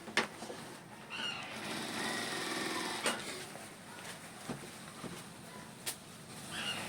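A sewing machine stitching a shirt seam runs in a steady, moderately quiet whir with a few sharp clicks and knocks from handling the cloth.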